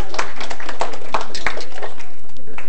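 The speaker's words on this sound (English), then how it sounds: "at least she deserves a round of applause" A classroom lecture audience claps for the winner of a class quiz, a loud, short burst of uneven, scattered hand claps close by that tapers off quickly.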